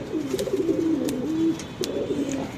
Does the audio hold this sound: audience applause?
no